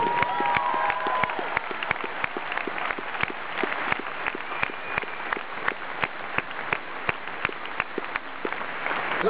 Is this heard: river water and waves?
no